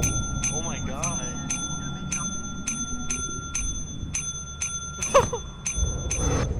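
A bright bell in the video game Lethal Company rings again and again in quick, fairly regular strikes, standing out over rumbling game noise while excited voices talk and shout.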